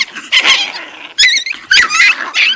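A Chihuahua-pitbull mix puppy growls and yips in several close, loud, squealing bursts separated by brief pauses, with no talking.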